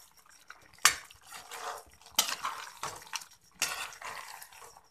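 Mutton karahi with green chillies and coriander being stirred in a pan, a few sharp metallic scrapes and clanks of a utensil against the pan amid soft sizzling, close and moderately loud.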